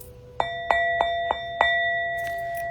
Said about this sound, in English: Let me ring the bell real quick.